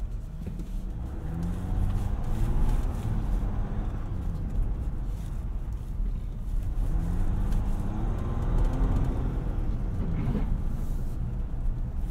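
A 2020 Jeep Wrangler Rubicon EcoDiesel accelerates from inside the cabin, its diesel engine droning loud and close while rising turbo whistles come in two swells.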